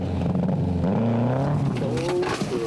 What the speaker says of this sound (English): Next in, the Big Red Monaro.